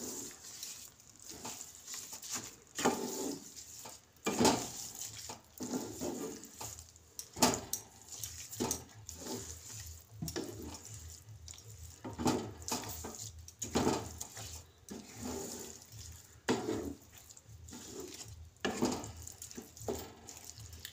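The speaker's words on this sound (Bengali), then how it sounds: "এবার আমি মিশিয়ে নেব।" Carrot halwa with sugar being stirred in a pan, giving repeated wet scraping and squelching strokes at an uneven rhythm, close and moderately loud, with no voice over it.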